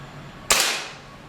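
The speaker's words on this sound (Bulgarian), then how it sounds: "Затваряме отделението за чашката и следва първият изстрел." A single sharp shot from a Gamo CFR Whisper IGT 5.5 mm air rifle, loud and close, with a short decaying tail and no talk.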